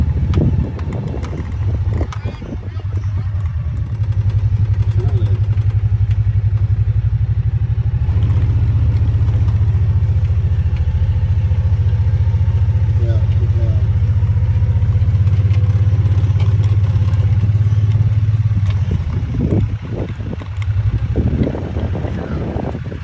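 Vehicle driving away from Texas bonfires: steady low engine and road rumble with wind buffeting on the microphone, loud and close throughout, with brief knocks near the start and end.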